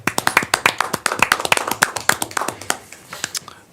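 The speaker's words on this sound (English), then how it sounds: "But I also want to applaud Greg with a round of applause here." A small group at a tree advisory commission meeting gives a round of applause, with distinct, close, sharp claps in a quick irregular rhythm that thin out and fade toward the end.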